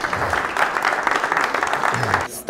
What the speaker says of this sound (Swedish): Varm applåd till Linda